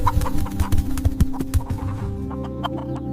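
Chickens clucking in a quiet mountain village, a run of short, loud, close clucks and calls in the first two seconds that thin out into softer, scattered clucks against a steady low background.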